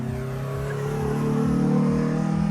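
A Honda car with a 1.6-liter B16 VTEC engine revs steadily and loudly up close, its strong droning note rising slightly and holding high with a rough, pulsing undertone.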